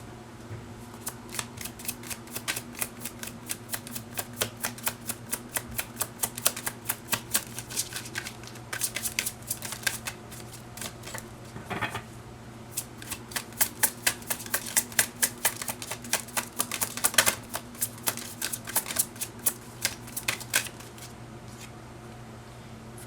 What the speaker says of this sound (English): let me get more cards from this deck